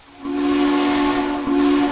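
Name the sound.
Southern 630 steam locomotive whistle in video game Trainz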